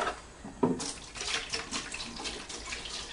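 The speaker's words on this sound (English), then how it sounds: "We'll take and we'll pour enough of the solution into the bucket" Slip-resistant solution for ceramic tile poured into a bucket, a steady splashing liquid stream that starts with a brief knock and runs on for a few seconds, close and moderately quiet, with no talking.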